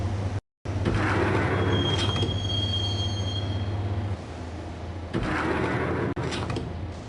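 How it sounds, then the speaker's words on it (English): Subway train ride in the video game Max Payne: a steady loud rumble of carriages on rails with a low hum and drawn-out high wheel squeals, a brief dropout near the start, continuous and up close with no talking. "the train doors had already shut behind me, and I was in for the ride"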